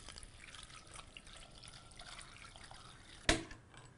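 Water is poured into a cooking pot over cut young jackfruit pieces with turmeric powder and rock salt: a faint, steady trickle, then a short, sharper splash near the end.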